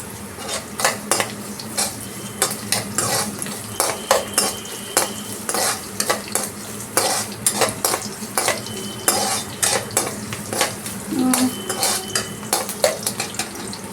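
Onions with sugar stirred in a pan on low flame keep up a steady rhythm of scraping spoon strokes against the metal, over a soft continuous sizzle, close and loud with no talking.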